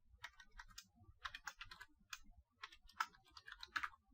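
Keystrokes patter on a computer keyboard while code is entered, quiet and close, in uneven clusters of quick clicks with brief pauses between bursts.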